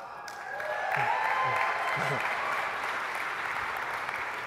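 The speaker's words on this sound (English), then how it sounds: "We should clap for that" Webinar audience applauding, a soft, steady wash of clapping that swells in and holds throughout, with a voice briefly speaking over it near the start.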